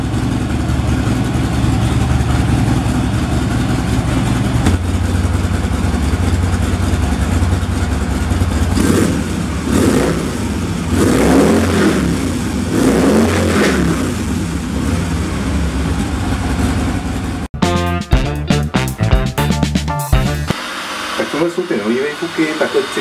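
An old Harley-Davidson motorcycle exhaust runs loud and steady, rising into several throaty revs midway, then sharp popping bursts as the engine is blipped near the end.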